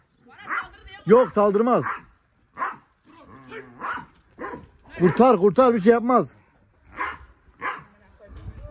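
A small dog yips and barks in short bursts, close by, while people talk over and between the barks outdoors.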